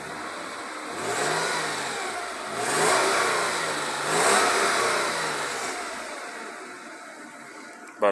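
A 1998 Mercedes C280 W202 engine revs up three times in smooth swells from a steady idle, fairly close and alone with no talk.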